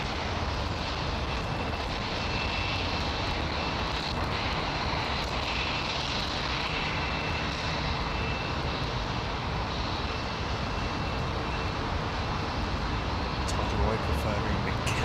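A Virgin jet airliner roars steadily and loudly at London Heathrow Airport, its engine noise filling the whole stretch without a break.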